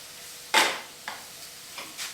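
Carrot and leeks cook in a soup pot under a faint simmering hiss, with a few sharp scraping strokes of stirring close by.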